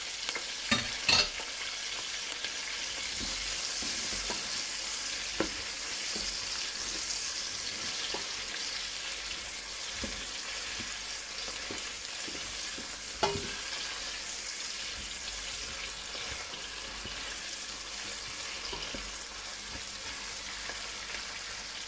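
Bell pepper fries in a pan as a steady, moderate sizzle that holds throughout, with occasional utensil knocks and scrapes and no talking.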